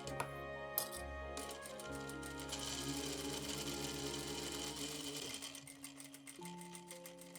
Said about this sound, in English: I chain stitched 2 of them together